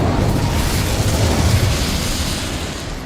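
Incendio fire spell in Hogwarts Legacy, cast in a goblin mine: a sustained roaring whoosh of flame with a low rumbling body, steady and loud throughout.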